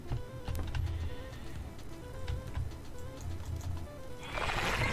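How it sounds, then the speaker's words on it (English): A goat bleats in the World War II dinosaur shooter Dino D-Day, with a few quiet bleating calls and hoof-like clopping at low level, followed by a brief burst of noise at the end. "That's the one that can throw a goat."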